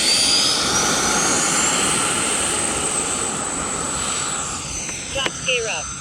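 An E-flite F-16 RC jet with an 80mm electric ducted fan and a 5280 motor flies past, giving a loud, steady turbine-like whine and roar that fades slowly as it moves away.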